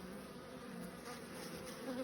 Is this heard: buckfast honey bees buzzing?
yes